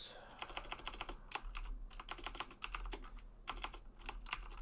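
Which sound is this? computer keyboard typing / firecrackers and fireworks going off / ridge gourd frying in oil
computer keyboard typing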